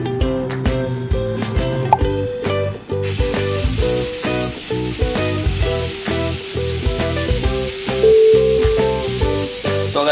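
Protein pancake batter sizzles in an oiled pan, a bright hissing spray of frying that starts a few seconds in and runs beneath loud background music.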